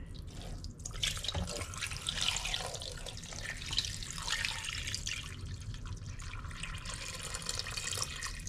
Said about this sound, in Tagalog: Ayan, tubig yan.